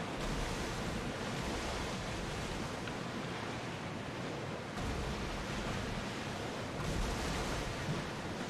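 Ocean waves wash steadily around a sailing ship in Assassin's Creed Odyssey, a constant broad roar of surf and wind with slight swells and dips, no voices.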